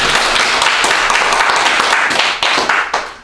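Audience clapping at a book talk and discussion gathering, a dense burst of many hands close and loud for about three seconds, thinning slightly toward the end with no talk over it.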